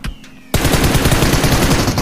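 Automatic gunfire in PUBG Mobile on the Miramar map bursts in loud and dense after a brief quiet moment, a rapid, sustained volley of shots close by with no talk over it.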